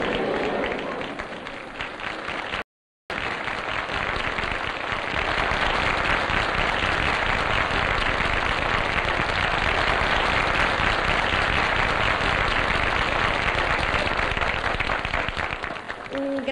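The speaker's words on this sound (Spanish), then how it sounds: "No sabe qué bien suenan los aplausos cuando se está tan lejos de la tierra de una." Sustained applause from a theatre audience greets a Spanish singer of Andalusian song, loud dense clapping filling the room for over ten seconds after a brief pause, with a faint voice near the end.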